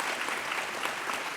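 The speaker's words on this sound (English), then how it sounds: "give them a round of applause as well" A short, fairly soft patter of audience clapping at a youth recognition awards ceremony, lasting only a moment.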